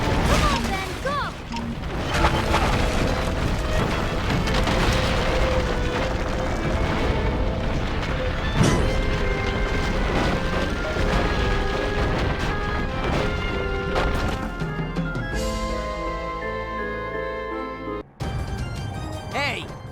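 Explosions and crashing impacts in the Ben 10 Ultimate Alien Cosmic Destruction video game on PS3, dense and loud throughout with game music and character voices over them, ending in a sharp cut and a final burst.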